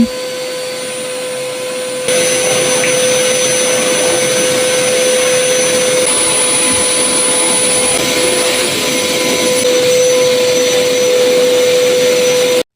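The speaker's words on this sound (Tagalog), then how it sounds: "pasalamat na lang talaga dahil may vacuum tayo na mapapadali ang ating gawain" A vacuum cleaner runs steadily for the whole stretch while a small house is cleaned, a loud continuous motor roar with a sustained whine that jumps up in level after the first couple of seconds and then holds.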